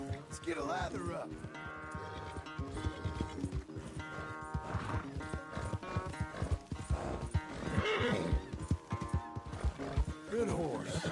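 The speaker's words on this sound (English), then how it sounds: "Where's that big mean horse?" A horse in the Red Dead Redemption 2 video game neighs and whinnies repeatedly amid clip-clopping hooves, loud and close, while a man urges it on throughout.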